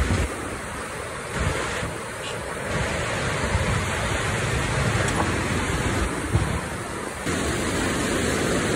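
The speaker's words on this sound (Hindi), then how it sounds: "बहुत तेज पानी बह रहा है यहाँ से" Steady broadband rush of fast-moving Ravi River water at Sidhnai Headworks, loud and continuous, with gusts of wind buffeting the microphone throughout.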